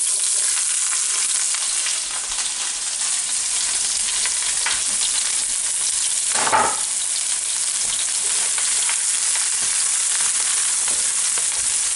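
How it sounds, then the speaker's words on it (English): Onions sizzle and crackle steadily in hot oil, a dense continuous frying hiss with a brief stirring scrape midway. "we frying them like same like for oysters till they're golden brown"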